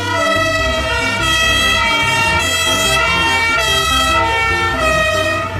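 A loud electronic siren from a toy fire truck wails in a repeating rising and falling pattern, close and continuous, with a tinny toy-like tone.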